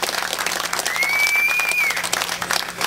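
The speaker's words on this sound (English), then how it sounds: "Yeah, a big applause there." Crowd applause for the winners of the 2003 Killarney rally at the victory ramp, a steady wash of clapping with a brief whistle-like tone rising through the middle.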